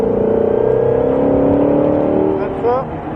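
A car accelerating hard during a driving lesson, a loud engine tone climbing steadily in pitch, then dropping and rising again as it shifts near the end, with an instructor talking over it.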